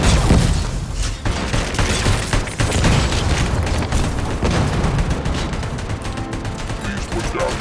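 ED-209 attacking in RoboCop: Rogue City, a dense, loud barrage of gunfire and booming impacts that runs continuously throughout.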